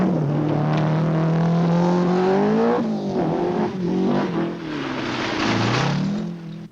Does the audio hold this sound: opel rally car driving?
yes